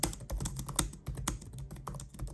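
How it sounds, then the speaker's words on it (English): Typing on the low-travel keyboard of a Lenovo Yoga 6 laptop, a quick, irregular run of soft, close key clicks with no voices. "The keyboard is great to type on with low key travel"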